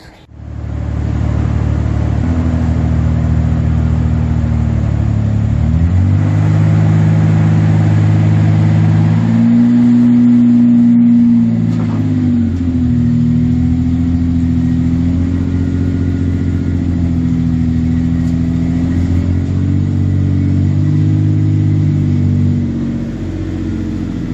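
A long-idle truck engine runs steadily and loudly up close, its low rumble shifting in pitch a few times as it revs and settles, with no voices over it.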